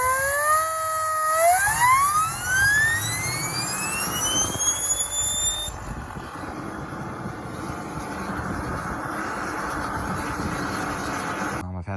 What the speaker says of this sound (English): this is a journal bearing turbo off a used Saab I pulled from a junkyard 3-4 years ago. This turbo has been on turbojet setups